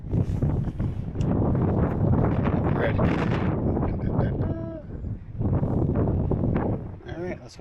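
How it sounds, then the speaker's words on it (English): Strong gusting wind buffets the microphone outdoors in a river valley in eastern Iceland, a loud continuous roar with a brief lull in the middle, and people speak over it. "Oh, it's real windy."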